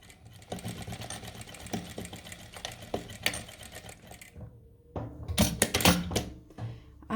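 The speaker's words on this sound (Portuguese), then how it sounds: "E aí, a gente vai costurar esse pedacinho aqui." Sewing machine stitching patchwork fabric scraps for a mini quilt, a close, loud run of rapid mechanical stitching that pauses briefly, then resumes in a second busy burst.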